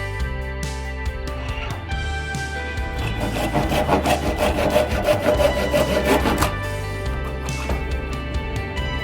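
An ash rolling pin is parted off on a wood lathe, a steady scraping, rasping cut over the motor's even hum, the cut growing rougher and louder midway before easing off.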